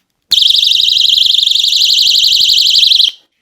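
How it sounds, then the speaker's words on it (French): A loud personal safety alarm shrieks in a rapid warbling tone for nearly three seconds, then cuts off sharply. It starts abruptly and sounds alone, with no voices. "il suffit donc de reclipper pour pouvoir arrêter donc l'alarme"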